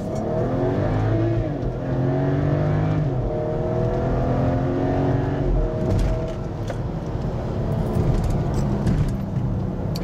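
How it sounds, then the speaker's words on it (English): A BMW F25 X3 35i M-Sport engine revs steadily through paddle-shifted gear changes. The rising and falling engine note stays loud and continuous throughout, with no talk over it. "Just listen to the engine sounds."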